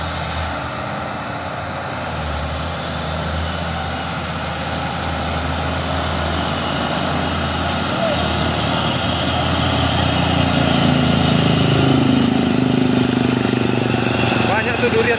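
An orange truck drives past on a hill road, its heavy diesel engine rumbling and growing louder as it nears, with a second engine idling nearby.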